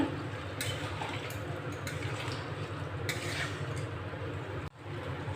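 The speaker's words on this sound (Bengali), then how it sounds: "নেড়ে নেব" Veg biryani is stirred in a pan, steady scraping and clinking of a utensil against the metal in repeated strokes over a soft frying hiss, close and moderately loud, with no talking.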